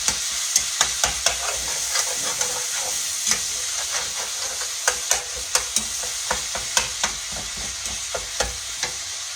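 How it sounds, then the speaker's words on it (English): Meat for a casserole fries in a pan with a steady close hiss and sizzle, punctuated by frequent scraping taps of a utensil stirring it. "it's getting to fry really good"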